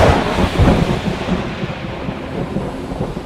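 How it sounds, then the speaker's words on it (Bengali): A deep rumble of thunder rolls over steady, heavy rain, loud at first and easing slightly as the downpour continues. "মনে হলো প্রচন্ড বৃষ্টি শুরু হয়ে গেছে"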